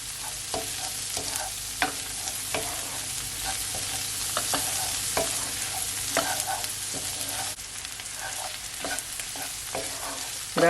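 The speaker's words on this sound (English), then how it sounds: "Allow your tomato to saute, guys, for at least" Tomato sautés in a hot pan for a Tuscan chicken pasta, a continuous bright sizzle broken by regular spoon stirs and scrapes, near and alone, with no speech.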